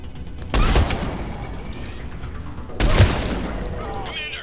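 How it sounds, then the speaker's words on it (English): Heavy mortar fire in a Mass Effect 3 battle against Cerberus troops: two loud, booming blasts land a couple of seconds apart, each followed by crackling debris and rumble over continuous background battle noise. "Commander, we're getting a lot of mortar fire."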